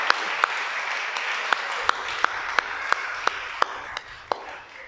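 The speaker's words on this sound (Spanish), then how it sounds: "Creo que eso merece un aplauso al Creador" A crowd applauds steadily, a dense wash of clapping with a few sharper individual claps standing out at regular intervals.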